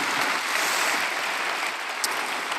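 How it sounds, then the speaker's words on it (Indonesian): Indonesian church congregation applauding during a worship service: dense, continuous clapping, steady and fairly loud for the whole short stretch, with no voices over it. "Berikan tepuk tangan kita untuk Tuhan kita."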